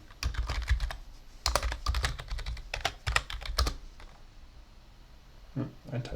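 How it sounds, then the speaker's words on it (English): Computer keyboard being typed on at close range during a Linux terminal session, quick bursts of crisp key clicks separated by short pauses, ending with a few isolated taps after a quiet gap. "I typed the password wrong."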